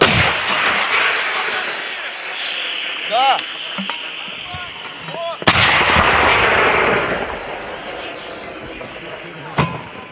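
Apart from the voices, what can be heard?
artillery cannon firing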